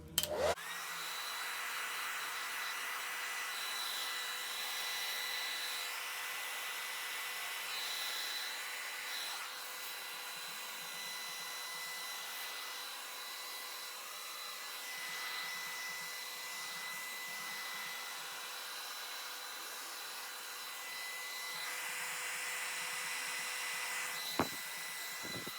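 A hair dryer or heat tool blows steadily on a wig cap to shrink it, a constant airy whir with a faint high whine, held fairly evenly throughout and ending with a brief click.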